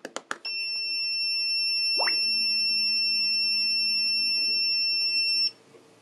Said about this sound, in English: Now the Sonoff Zigbee Bridge Pro is also equipped with a buzzer.